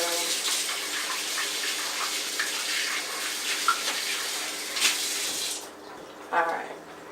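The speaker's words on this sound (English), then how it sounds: "So we'll wash our hands really gently." Water runs steadily from a kitchen tap as eggs are rinsed, a broad continuous rush that cuts off near the end, followed by a few brief clinks and handling sounds.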